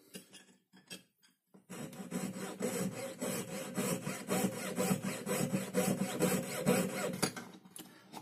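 A jeweler's fretsaw with a number 3 blade cuts the sprue off a two-tone white and rose gold ring, a close rapid rasping of steady back-and-forth strokes after a few light scratches, with no talk.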